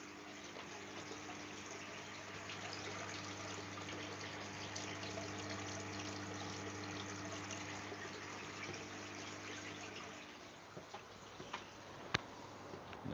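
An aquarium waterfall runs in a steady, continuous rush of falling water with a low constant hum beneath, fading slightly near the end where a few small knocks appear.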